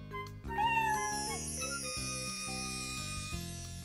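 Cartoon kitten meowing, a couple of short high mews near the start over soft background music, with no talking.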